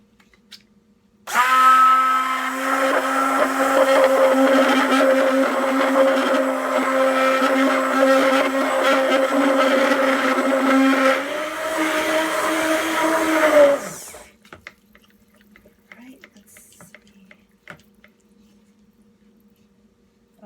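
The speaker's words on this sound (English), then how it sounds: "Ready to stick blend again." A stick blender whirs steadily for about twelve seconds while mixing lavender soap batter, its motor pitch dropping slightly near the end before it cuts off abruptly, leaving quiet room tone.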